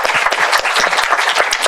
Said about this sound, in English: So just give another round of applause to the panelists.